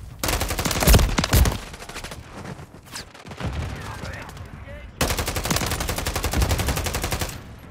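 Automatic and rapid gunfire from the Call of Duty MW3 multiplayer map Rust, loud bursts of shots crackling in dense runs with a brief lull in the middle before another sustained volley.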